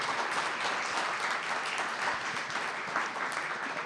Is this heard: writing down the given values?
no